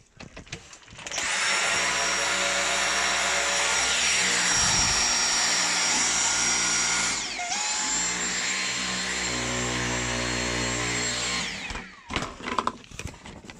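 A Dyson V6 cordless vacuum cleaner with a new battery runs with a loud, steady high-pitched whine, briefly dipping mid-run before resuming, then switching off with some handling clatter at the end.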